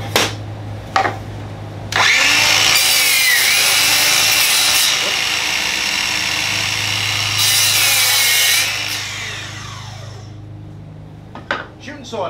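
DeWalt DCS361 cordless 7-1/4 inch sliding compound miter saw on 20V max battery, spinning up and cutting through wood, a loud close whining buzz lasting several seconds with a change in pitch mid-cut, then winding down, with short knocks before and after.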